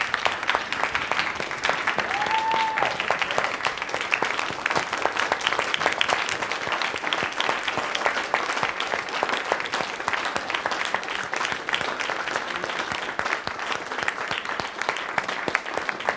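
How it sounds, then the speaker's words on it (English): Theatre audience applauding after a speech at an anniversary celebration, sustained loud clapping from a large crowd lasting over fifteen seconds with a brief faint voice or whistle early on. "I would like to a very big standing applause for that company"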